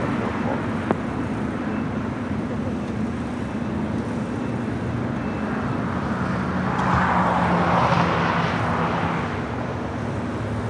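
An Airbus A380 at LAX, a steady distant jet roar that swells slightly toward the end under a constant background of airport and road noise, with no talk.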